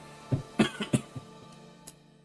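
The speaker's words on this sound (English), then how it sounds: "Sorry if I cough from time to time." A man with a cold coughs in a quick cluster of several harsh bursts, then gives one smaller cough after a short pause, close and fairly quiet.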